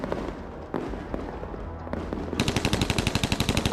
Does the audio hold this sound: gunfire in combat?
yes